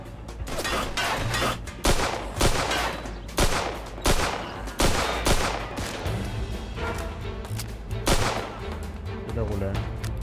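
Rapid gunfire from a weapon in the video game Mafia 2 cracks out in a dense burst of repeated loud shots, with some irregular spacing and continuous game background noise beneath.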